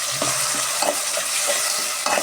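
Onions and tomatoes for kathamba sambar sizzle loudly in a pan, with bursts of sharp frying crackle as a spoon stirs and scrapes them through the oil, close up.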